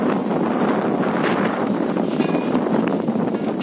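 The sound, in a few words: strong wind gusts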